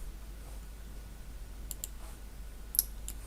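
A few faint, sharp mouse clicks near a computer, brief and isolated over quiet room hiss.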